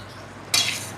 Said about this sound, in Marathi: तर हे सगळं व्यवस्थित असं एकत्रित करून घेऊयात